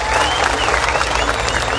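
An audience at a Bengaluru rally claps loudly and steadily to welcome elder leaders, a dense burst of applause throughout with crowd murmur beneath.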